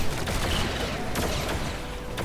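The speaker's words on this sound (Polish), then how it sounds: "Chyba mam strzelać ile wlezie, bo widziałem taki mały wybuch na tej motorówce." Rapid gunfire aimed at a motorboat in the LEGO Batman video game, a dense continuous burst of shots running steadily through the whole moment with no talk over it.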